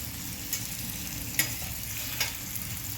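Capsicum bhaji mixed with crushed peanuts is stirred in a pan, a steady soft sizzle broken by three sharp scrapes of the spoon against the metal, close up and with no voices.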